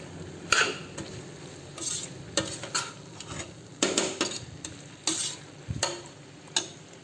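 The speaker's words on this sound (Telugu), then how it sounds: "దీంట్లో కొత్తిమీర కూడా వేసి బాగా కలయపెట్టాలి." Coriander being stirred into banana stem kurma in a pan: irregular spoon scrapes and clinks against the metal over a gentle sizzle, close up.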